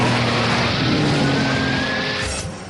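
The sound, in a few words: Bugatti Veyron car accelerating off the line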